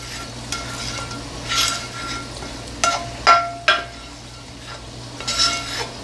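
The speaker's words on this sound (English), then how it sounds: "And now I'm going to drop in the mixture that we have here of our peppers and our onions" Peppers, jalapeños and onions hit a hot pan and sizzle, with bursts of clatter as they drop in and are stirred around, the fry rising and falling over a steady background hum.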